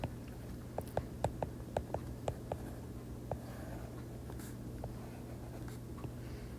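Pen or marker drawing a chemistry diagram, a run of light, quick taps and short strokes early on, then sparser faint scratches over a steady low background hum.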